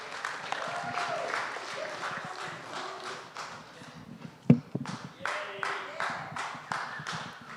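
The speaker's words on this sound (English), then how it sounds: "To welcome them, everybody, let's give them a warm of applause." A church congregation claps to welcome a family band, a dense round of applause that thins and then swells again, with a sharp loud clap or knock midway, recorded at a moderate distance.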